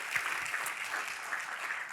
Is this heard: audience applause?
yes